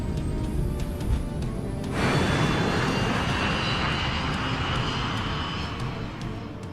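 A brand-new Boeing 737-400 passenger jet on its takeoff roll, the engine roar swelling sharply after two seconds into a loud, broad, sustained rush heard from inside the aircraft, with a faint high whine above it.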